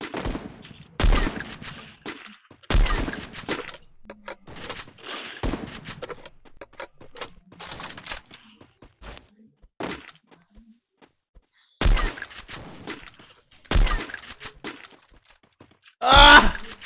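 Sharp gunshots from a mobile shooter game arrive in scattered single bursts, sometimes doubled, with quiet gaps between them and one louder crackling burst near the end.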